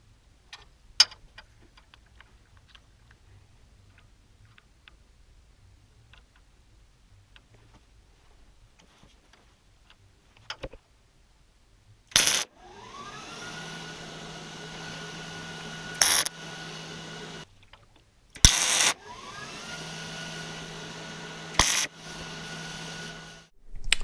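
Tack welds fixing a limiting strap onto a suspension tube on a Baja front suspension build: two sustained buzzing arc bursts of a few seconds each, close and fairly loud, with quiet shop ticks before.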